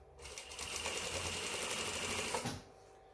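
A sewing machine stitches the two front panels of a pair of pants together at the crotch line, a quick rapid chatter running for about two seconds before stopping, heard close and alone.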